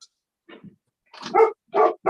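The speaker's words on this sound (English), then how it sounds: "I didn't know if you heard my dog barking." A dog barks several times indoors, a few faint yips at first, then three loud, close barks in quick succession, with a brief spoken word near the end.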